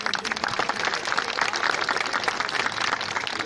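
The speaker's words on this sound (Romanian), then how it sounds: "aplauze pentru" Audience applause at a live historical reenactment show, a steady dense wash of many hands clapping throughout, moderately loud and close, with no voices standing out.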